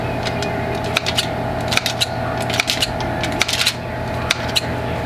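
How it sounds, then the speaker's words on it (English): Several sharp scissor snips at irregular intervals, close by, as scissors held at an angle clip sausage rolls, over a steady low hum of room noise. "I'm just holding my scissors at an angle."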